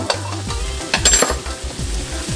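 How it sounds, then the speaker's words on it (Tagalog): Freshly caught crabs sautéed with fresh ginger in a pan, a steady sizzle mixed with repeated stirring scrapes and clatters of a utensil against the pan, close up and without talk. "Gigisa ko na yung crabs na nahuli namin."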